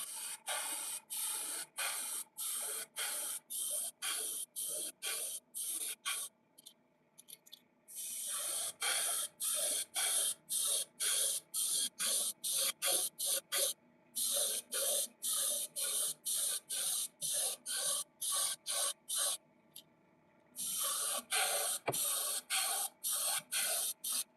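An airbrush sprays paint in repeated short bursts of sharp hiss, each a second or so long with brief gaps, plus a couple of longer continuous sprays, close and steady in level.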